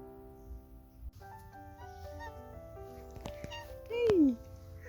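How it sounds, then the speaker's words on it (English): House cat giving a single odd, drawn-out meow with a falling pitch near the end, heard close by over quiet indoor background noise and some faint talking. "We actually have another cat, which you'll see in a bit. And she meows really,"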